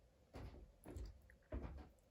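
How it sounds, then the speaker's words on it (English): A door swings shut in a room, giving a few soft, muffled thuds and bumps over about two seconds, quiet and alone with no voices. "I'll wait for you to shut the door."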